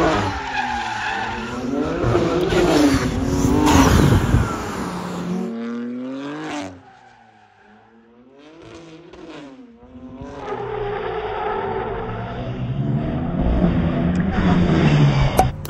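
A BMW G80 M3 drifts on Europe's highest mountain road, tires squealing loudly over a revving engine; the screech dips briefly to a quieter stretch midway, then surges back strong and close.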